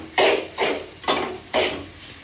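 Chicken fried rice is stirred in a pan with a spatula, four loud, evenly spaced scraping strokes with a faint sizzle between them.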